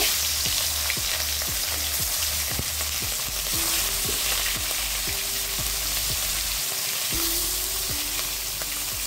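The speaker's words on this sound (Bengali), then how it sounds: "বাকি মাছগুলো ভেজে নেব" Pieces of catla fish fry in hot oil with a continuous close sizzle, dotted with repeated sharp crackles and pops over about nine seconds.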